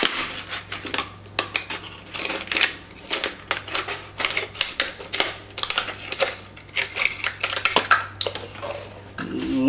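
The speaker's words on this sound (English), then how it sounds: "make an incision and cut around" A blade cuts around a plastic bottle at the label line, giving dense, close clicking and crackling scrapes in irregular bursts, with a low steady hum underneath.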